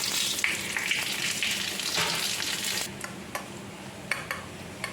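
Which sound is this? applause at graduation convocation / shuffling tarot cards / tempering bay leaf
tempering bay leaf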